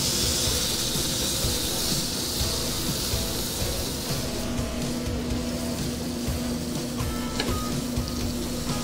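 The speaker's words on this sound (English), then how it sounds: "I'm only gonna be searing this probably about 2 minutes on each side" Meat searing in a pan over high heat gives a loud, steady sizzling hiss that runs the whole time, with a faint tonal hum beneath it.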